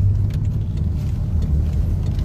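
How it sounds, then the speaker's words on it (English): A car carrying politician Chishimba Kambwili from police headquarters to a police station rumbles steadily at close range, its low engine and road noise continuous throughout with no voices. "The vehicle in front is the one transporting Honorable Chishimba Kambwili from police service headquarters to a police station."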